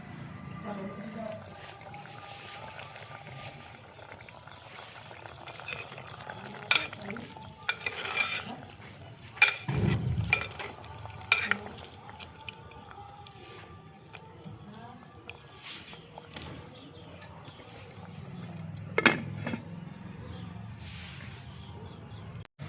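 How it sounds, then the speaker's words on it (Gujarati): A spoon scrapes and stirs vegetable curry in a pan, giving soft, wet, squishy clatters with a faint sizzle underneath and occasional sharper knocks against the pan. "ચાલો આને હવે હમણાં સારી રીતે મિક્સ કરી નાખો"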